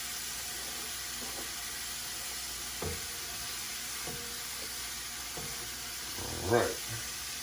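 Onions fry in oil in a pan, a steady close sizzle and hiss, with a few soft clinks and a louder scrape or stir near the end, ahead of a homemade mushroom soup and seared steak.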